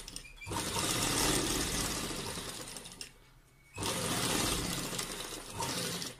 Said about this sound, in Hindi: अब इसे हम ऊपर की तरफ फोल्ड करके एक सिलाई लगा लेंगे पहले।